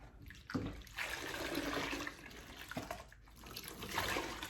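Water runs from a tap in a steady gushing stream, close by, briefly interrupted twice before flowing again.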